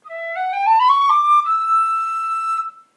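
A cylindrical-bore wooden whistle plays a clear, pure rising run of notes and then holds a steady high tone, solo and close, with a soft finish.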